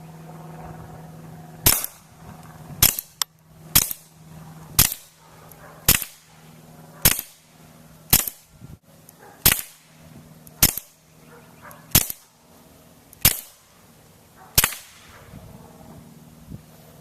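Sharp gunshots from a Smith & Wesson M&P 22 Spectre II .22 pistol ring out one at a time, about a dozen evenly spaced cracks over a quiet background, close and loud.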